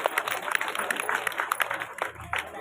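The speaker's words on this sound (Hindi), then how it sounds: "आप लोगों से निवेदन रहेगा जोरदार तालियों से स्वागत करें" A crowd at a Kargil Vijay Diwas commemoration ceremony in Srinagar Garhwal claps to welcome a guest, with quick, dense, moderately distant applause and no voices.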